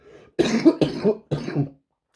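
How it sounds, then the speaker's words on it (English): Several harsh coughs in quick succession, close and fairly loud, with brief pauses between bursts and no talking. "And I'm going to cough."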